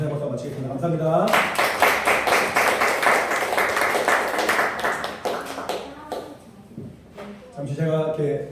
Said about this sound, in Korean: 우리 예배 받으셔서 함께 감사의 박수 마치겠습니다.